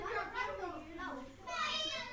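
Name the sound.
children making noise in the background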